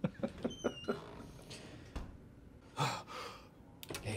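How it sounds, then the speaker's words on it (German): Heavy, ragged creature breathing from the Resident Evil Village horror game, a series of sharp gasps and sighs followed by slower drawn breaths, fairly close and alone. "Dieses Atmen geht mir so auf den Sack"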